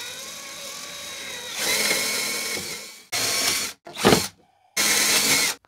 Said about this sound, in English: Drill holes using layout.